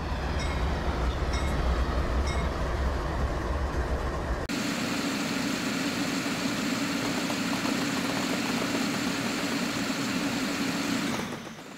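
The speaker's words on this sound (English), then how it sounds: "we are going to come down here while our engines approach" Locomotive engines move in the video game Train Simulator 2014, giving a continuous droning rumble whose tone shifts partway through and then holds steady until it fades at the end, with no talk.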